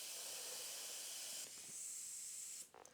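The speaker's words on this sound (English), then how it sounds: "I'll let a little air out of this tire so it doesn't want to roll like it is." Steady air hissing out of a Honda Fourtrax 300 ATV tire, a close, continuous bright rush that pauses briefly midway, resumes, then cuts off near the end.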